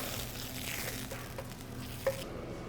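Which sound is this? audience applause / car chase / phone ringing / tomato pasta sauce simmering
tomato pasta sauce simmering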